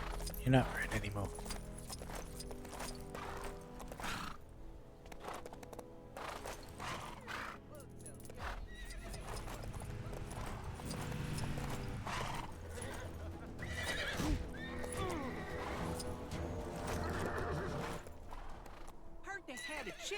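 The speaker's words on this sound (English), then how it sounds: "Now, to get these horses tidied up and sold off to the highest bidder." Horses in the Lego Marvel Superheroes 2 video game whinny loudly and clip-clop repeatedly throughout, with someone talking over the game sounds.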